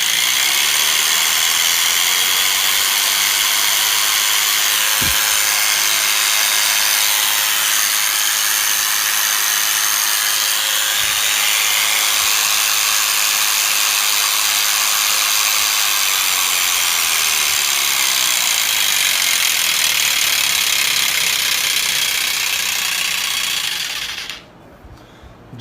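A 750W electric clipper for sheep, horses, cows and goats runs steadily with a loud, constant high-pitched motor whine, close and uninterrupted for about twenty-four seconds before abruptly cutting off.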